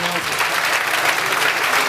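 Applause from the audience at an excellence awards ceremony, a dense continuous wash of clapping from many hands, loud and sustained for a couple of seconds.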